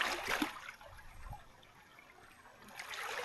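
Water trickles and gurgles as it flows into a rice paddy, a soft continuous splashing stream heard up close and fairly quietly, with no talking.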